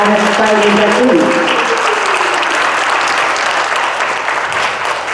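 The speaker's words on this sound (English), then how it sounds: "give a round of applause for the 2022 National Junior Honor Society inductees" An audience applauds the 2022 National Junior Honor Society inductees at their induction ceremony, with steady, dense clapping that starts under a few voices and then carries on alone.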